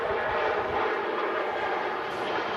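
Jet2 airliner departing Manchester Airport, a loud continuous broadband engine roar that holds steady throughout, heard alone from a distance without voices.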